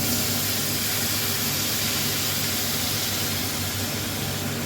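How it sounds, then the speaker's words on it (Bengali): Hot water poured into rice that has been frying in a pot for boukhuda, a loud steady rushing hiss of steam and bubbling that continues without a break, with no talking. "পরিমাপ মতন জল দিয়ে দিলাম।"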